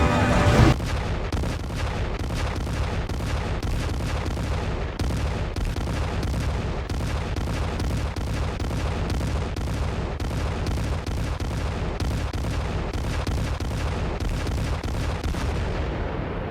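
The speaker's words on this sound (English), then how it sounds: "I had 2 max privateers bombing the path to the next world." Steady, rapid cannon bombardment from privateers in Pirate101, a loud, continuous barrage of booming shots that keeps an even rhythm throughout.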